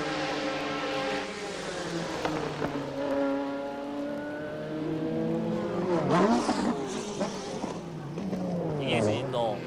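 A Silk Cut Jaguar sports-prototype race car at the 1988 WEC in Japan at Fuji runs flat out down the 1.4 km straight. Its steady engine drone rises in pitch as it passes, heard under continuous race commentary.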